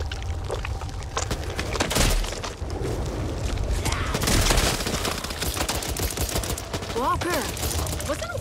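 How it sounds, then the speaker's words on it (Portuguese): Gunfire in the zombie shooter Back 4 Blood, bursts of rapid automatic shots and booms layered over a busy game mix, with players talking and chirpy creature cries near the end. "Cuidado com os tiros!"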